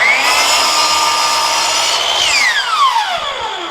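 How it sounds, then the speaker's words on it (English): A miter saw spins up with a rising whine and cuts a board at 45 degrees for a floating shelf bracket, then winds down with a falling pitch as the blade slows, loud and close. "I've got my miter saw here. I'm just going to adjust it for a 45-degree cut."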